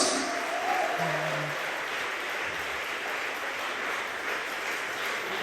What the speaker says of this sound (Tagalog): Pumalakpak kayo sa Diyos!